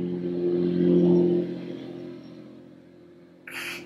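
Cars pass by outside, a low engine rumble swelling to a peak and slowly fading away, followed by a short brighter noise at the end, heard alone with no speech.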